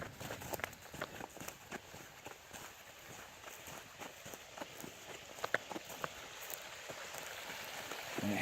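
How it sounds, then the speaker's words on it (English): Water runs into a large seasonal pond from national forest land and spills over its overflow after heavy rain, a steady broad rushing wash with scattered close crackles and taps, like footsteps, throughout. "Water still running in from the national forest here."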